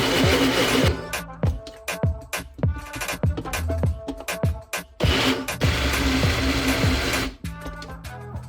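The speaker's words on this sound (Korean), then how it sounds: "믹서기가 새지 않게 꽉 닫아준 후 스팸이 느껴지지 않을 정도로 곱게 갈아줍니다." Blender grinding Spam with peanut butter, a loud close motor whirring in repeated bursts and stutters as the thick mixture catches, with brief pauses between pulses and no voices.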